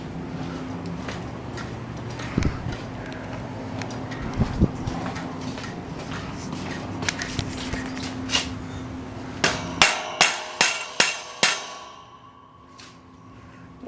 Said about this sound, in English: that's where the old rubber mallet comes in handy